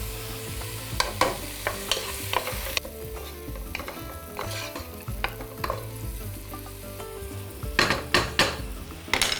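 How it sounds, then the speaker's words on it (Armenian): Onion frying in a pan with a continuous sizzle, broken by frequent clinking and scraping of a utensil against the pot, close and fairly loud, with no one talking. "Սոխը թող տապակվի"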